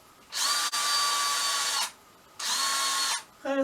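A cordless power drill with a weak, failing battery whirs in two bursts, the motor sounding strained and uneven, with a brief click between and a short ratcheting tail.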